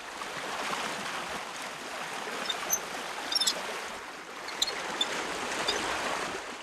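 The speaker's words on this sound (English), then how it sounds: "Felisberto Forte opens the water gate of the main basin that feeds the entire salt garden" Water rushes through an opened gate into the main basin of a coastal salt garden. It makes a steady, moderately faint wash and gurgle, with a few thin, high chirps above it.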